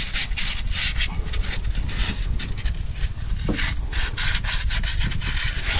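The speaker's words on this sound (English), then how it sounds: "I had to go in with a little bit of sandpaper here and clean up the surface." Sandpaper scrubbing the corroded surface of a Chevy truck's front steering knuckle, in steady, close back-and-forth strokes with a dry, gritty rasp and no talking.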